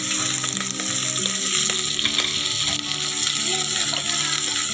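Cumin, garlic, green chili and potatoes fry in a pan for a simple khichdi, giving a steady, close sizzle with light stirring scrapes throughout and no talking.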